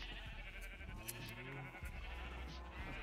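Sheep bleat in the video game Minecraft, a few short wavering calls over a steady background hum, with no speech.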